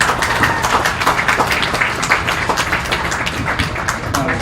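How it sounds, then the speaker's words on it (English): Dense round of applause at a county fair beef show for the young cattle exhibitors. Many hands clap together, steady and fairly loud, with faint murmuring underneath. "can we go ahead and give these youngsters a round of applause?"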